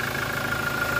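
Toyota Innova V with a 2.8 diesel engine idling under the open hood, a steady, close mechanical drone with a faint rhythmic clatter, continuous and alone.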